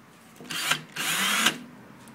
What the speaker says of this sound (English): I've got my cordless drill with a blade sharpener attachment on the end